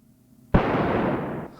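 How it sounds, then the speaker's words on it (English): A sampled impact sound played like a snare: one loud, sharp strike that swells into a dense noisy burst, holds for about a second, then cuts off abruptly, with nothing else around it. "this impact sound works like a snare"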